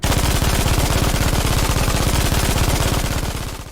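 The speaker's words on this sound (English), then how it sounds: "the Russians called it the Linoleum Ripper due to the unique shredding sound it made when it fired" German MG42 machine gun from World War II firing one long unbroken burst of extremely rapid shots that blur into a loud tearing roar, close and dominant, fading slightly at the end.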